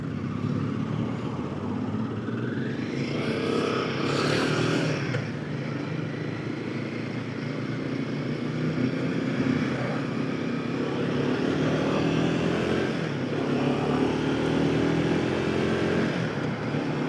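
A 2025 Royal Enfield Himalayan single-cylinder motorcycle idles and revs, its thumping engine and exhaust a steady low rumble at moderate distance, rising briefly, with no talk over it.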